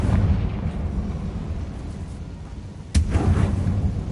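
In a Harry Potter video game, the Confringo spell detonates in a sudden sharp blast and rumbling boom, rising out of a low, steady background roar.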